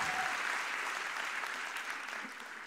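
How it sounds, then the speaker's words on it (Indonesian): Audience applause at a stand-up comedy show in Solo, Indonesia, a dense, steady wash of clapping from a large crowd, heard at a moderate distance and continuing without a break. "Tepuk tangan dulu dong."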